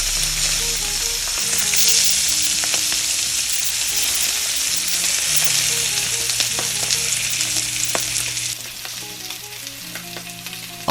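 Lamb chops fry steadily in a pan with a loud, continuous sizzle and crackle, while tonal music plays softly underneath throughout.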